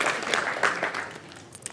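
An audience claps briefly at a motivational talk, a short spray of hand claps that fades quickly into quieter scattered claps.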